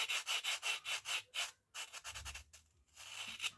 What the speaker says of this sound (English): And then I just file out patterns on